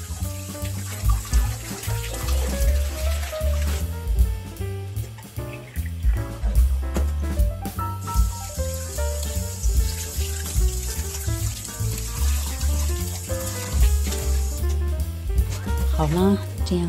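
Tap water runs continuously into a kitchen sink while a sea bass is rinsed and cleaned, steady splashing with music playing underneath throughout.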